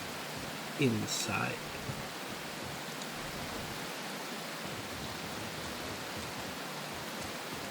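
Steady rain heard from indoors in the video game Prologue: Go Wayback!, a continuous wash of broadband hiss throughout, with a brief voice speaking near the start.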